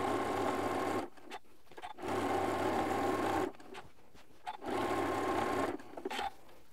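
A sewing machine stitches a quarter-inch quilt binding seam in three steady, whirring runs, each separated by brief pauses.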